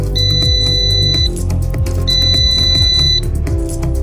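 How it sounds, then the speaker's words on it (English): A drone's locator buzzer beeps in two long, piercing electronic tones with a short gap between them, loud and close over a low background hum. "press the left stick on the remote control to start the buzzer of the aircraft"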